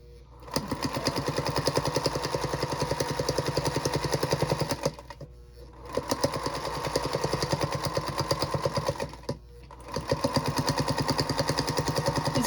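Sewing machine stitching close to the edge of a fabric book cover, running in three long bursts of rapid even clatter separated by short pauses.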